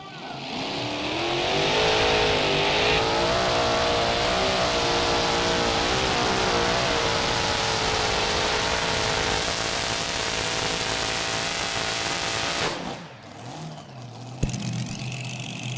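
An Unlimited Mini Rods pulling tractor, Breaker Junior, roars through a tractor pull attempt at the EC 2023 European event, a loud sustained engine howl with rising and wavering pitch for about twelve seconds before cutting off, followed by lower residual noise.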